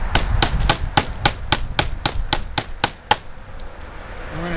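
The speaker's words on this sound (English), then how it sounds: "I just want to make a little hole here for my nail because I don't want the plastic to crack from nailing." Hammer driving a nail into plastic and wood while building a straw bale cold frame, about eleven sharp, close, evenly spaced blows in a quick steady rhythm before stopping.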